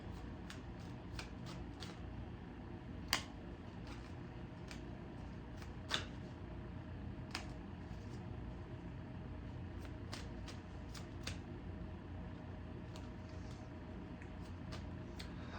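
Oracle cards being shuffled by hand in a quiet room, a steady soft papery riffle with sharper card snaps at irregular intervals, close and fairly quiet, with no talking.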